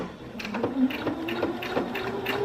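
Sewing machine stitching fabric for a bench cushion with boxed corners: a close, steady mechanical chatter of rapid needle strokes with a faint motor hum, alone and without talk.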